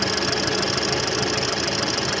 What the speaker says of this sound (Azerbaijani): İndi normal motordadır.